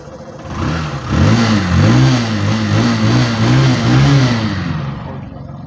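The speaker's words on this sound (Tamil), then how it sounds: "நமக்கு வந்து பைக் வந்து ஆன் ஆகிடும்." A motorbike fitted with a GPS tracker starts after an engine unlock, then revs several times in rising and falling surges before settling, close and loud with no talk.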